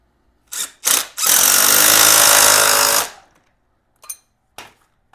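A power tool drives an exhaust nut tight on a Lifan KPM 200 motorcycle: two short impact bursts, then a loud sustained rattling hammer for about two seconds, followed by a few brief trailing clicks and knocks.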